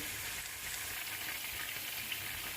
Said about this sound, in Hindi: ऑयल गर्म हो गया, इसमें लहसुन डाल देंगे और लहसुन को हम गोल्डन फ्राई करेंगे।